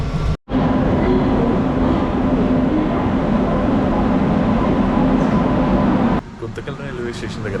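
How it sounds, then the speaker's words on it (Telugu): A passing train rumbles steadily alongside a stopped AC three-tier coach of a Tirupati to Hyderabad special train, a loud continuous rolling roar that cuts off abruptly near the end, leaving quieter cabin noise. "పక్క నుంచి వేరే ట్రైన్ పంపించేస్తున్నాడు చూడండి. ఆ ట్రైన్ వెళ్ళిపోతుంది."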